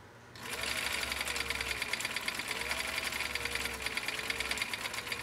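A sewing machine stitches steadily and continuously for several seconds, a close, even mechanical whir with a fast repeating needle rhythm, starting abruptly after a brief quiet moment and running without speech.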